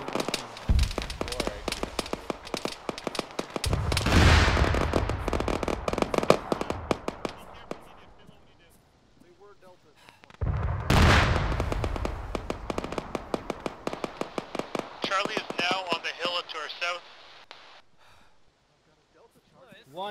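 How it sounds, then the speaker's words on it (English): A self-propelled gun firing during a video game battle: two heavy, booming shots several seconds apart, each with a long rumbling tail, over a crackle of distant gunfire and radio chatter, with voices talking faintly underneath. "Sounds like an SPG."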